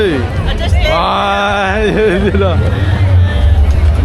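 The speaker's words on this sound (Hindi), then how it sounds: "गाइस देखिए कितना भीड़ है बहुत भीड़ है आज" A busy night market crowd chatters all around, a steady wash of overlapping voices with a low rumble of traffic underneath, while someone talks close and clearly over the din.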